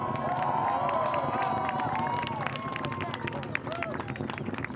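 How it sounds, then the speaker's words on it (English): A crowd cheers the liftoff of an Orbital ATK rocket launching to the ISS from NASA's Wallops Flight Facility, a dense, continuous roar of voices and shouts mixed with loud wind and rumble. "Crowd watching the launch at Wallops there, cheering its liftoff."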